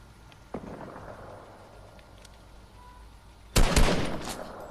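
Enemy gunfire in Fortnite: a single sharp shot early on, then a loud, close burst of rapid automatic fire that trails off, with no talking.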